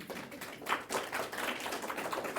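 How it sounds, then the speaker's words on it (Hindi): Audience clapping at a spiritual talk in a hall, a steady patter of many hands sustained throughout, with no voices over it. "ताली बजाओ"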